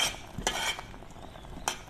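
A utensil stirs ginataang saluyot, jute leaves with string beans and okra in coconut milk, in a pan, giving a couple of sharp metallic scrapes and clinks over a soft simmering hiss, with no talk.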